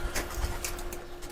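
Pigeons coo softly inside a loft in Lahore's Taj Bagh area, a few low murmuring calls close by against a steady background hum.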